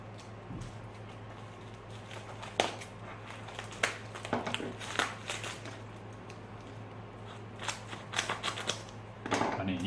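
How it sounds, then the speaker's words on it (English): Scissors snip and crunch through plastic packaging while unboxing lightsabers, irregular close cutting and crackling sounds at low level with scattered sharp clicks. "Pair of scissors."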